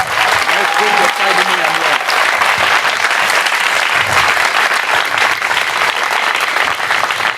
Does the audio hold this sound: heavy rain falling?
no